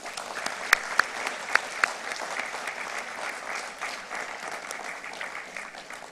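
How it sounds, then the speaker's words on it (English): A university graduation ceremony audience breaks into sustained applause, dense clapping from a large crowd with a few sharp nearby claps standing out early on, steady throughout. "I invite everyone to please join me in giving all of you a big round of applause."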